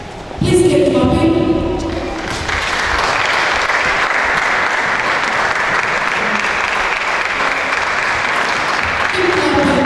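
A large audience claps continuously at an opening ceremony for a children's reading competition in Nigeria, a dense, even roar of hands following a short burst of tonal sound at the start.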